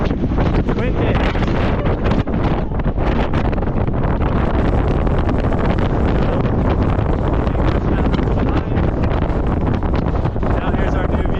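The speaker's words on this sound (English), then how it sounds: "Windy." Strong wind roars and buffets the microphone continuously near Hakkari, Turkey, by the Iran-Iraq border, loud and close, with a voice faintly audible beneath it.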